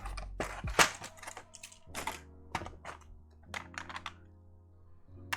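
Sharp plastic clicks and taps of GMK keycaps being pressed onto a mechanical keyboard come in irregular bursts, close and crisp, with quiet gaps between them.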